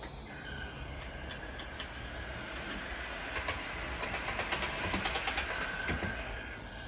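A model railway train runs along its track with a steady rolling hum, and a quickening clickety-clack joins in toward the end, close by with no voices.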